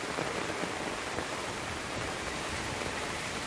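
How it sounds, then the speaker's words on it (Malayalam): Heavy rain pours down on a monsoon road trip, a dense, even hiss of drops drumming on surfaces with no let-up and no voices. "നല്ല മഴ കേട്ടോ."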